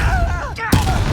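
Depulso spell cast in Hogwarts Legacy: a sharp, loud blast hits just before midway through, rising out of swirling whooshing tones and a busy backdrop of combat noise.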